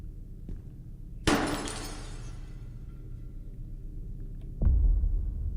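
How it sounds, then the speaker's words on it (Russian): A flashlight shatters with a sharp glassy crack in the horror game Witch's Doll, the bright burst trailing off over a steady low ambient drone, followed by a heavier thud a few seconds later. "Фонарик сломался, воспользуйтесь зажигалкой."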